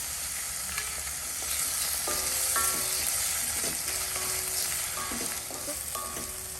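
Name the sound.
tomato and salt frying in a pan for egg kheema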